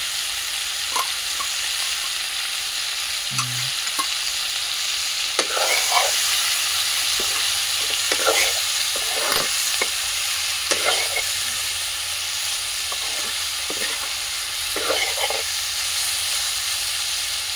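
Garlic and ginger paste frying in a pan for a village-style chicken curry, a steady sizzling hiss with intermittent scraping stirs and clinks of a spoon throughout, no talking.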